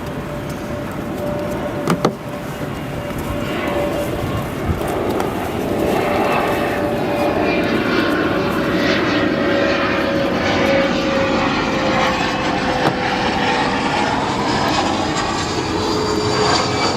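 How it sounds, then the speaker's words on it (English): A United Express SkyWest regional jet, flight 5514 from Knoxville, lands on runway 10 center at O'Hare, its engine roar and a steady whine holding at moderate distance and swelling slightly as it nears touchdown. "Next flight coming in, United Express, operated by SkyWest, 5514, flight from Knoxville,"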